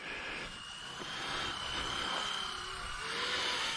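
A remote-control model helicopter coming in to land outdoors, its rotor and motor making a steady whirring drone with a high whine that shifts slightly in pitch as it descends, continuous with no talk.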